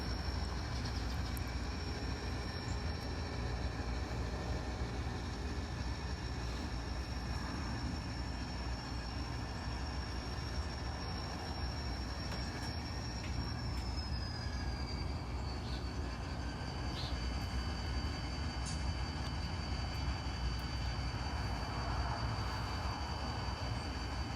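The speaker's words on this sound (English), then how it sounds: "we'll stop and uncouple the L&N car and then continue pushing the train west" An N scale model train pushes cars west along a home layout toward Chillicothe, making a low continuous motor whir and rumble with a thin, steady high whine that shifts partway through. No voices are heard.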